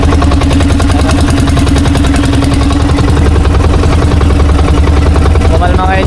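Motorboat engine on a river heading out to sea, a loud, close, steady throbbing drone that runs unbroken throughout.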